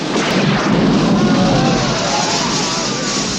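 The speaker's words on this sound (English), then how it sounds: "Explosion." A loud, sustained roar of broad rumbling noise from an explosion in the 1983 film Never Say Never Again, like a big blast and aftermath, filling the whole span without pause.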